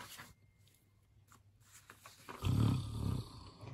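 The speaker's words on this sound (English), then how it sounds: "he was snoring" After a few seconds of near silence, one deep, rumbling snore swells up and fades out.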